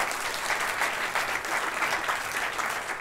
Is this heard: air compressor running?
no